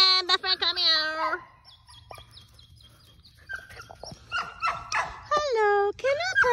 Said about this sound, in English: Can I pet that dog? I want to pet that dog.